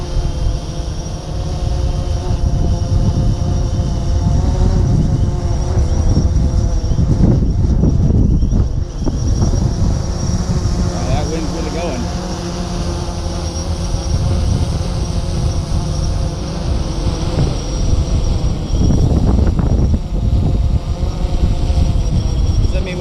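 Strong gusty wind buffets the microphone outdoors during a drone test flight in high gusts, a loud continuous low rumble with surging peaks, with a faint motor whine and a voice speaking over it.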